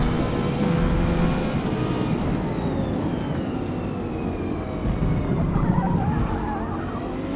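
GT3 race car engine in Forza Motorsport online racing, a continuous loud, droning roar with shifting pitch and some tyre noise, held steady throughout.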